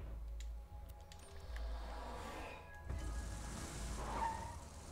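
Vehicle driving in Borderlands 2, a steady low engine rumble running throughout with some skidding tire noise over it. A few short clicks and bursts sit on top, and no one speaks.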